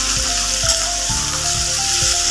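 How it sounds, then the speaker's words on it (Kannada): Chopped mixed vegetables sizzle and fry steadily in a hot pan for veg pulao, with a few soft stirring knocks and scrapes over the constant crackle. "ಇದಕ್ಕೆ ಕಟ್ ಮಾಡಿರೋ ಮಿಕ್ಸ್ ವೆಜಿಟೇಬಲ್ ಹಾಕೋತಾ ಇದ್ದೀನಿ. ಇದನ್ನು ಒಂದ್ಸಲ ಚೆನ್ನಾಗಿ ಫ್ರೈ ಮಾಡ್ಕೊಳ್ಳಿ."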